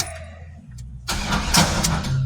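A 1979 Malibu's 496 stroker big-block V8 cranks and catches after a quiet pause, then runs with a rough, loud rumble.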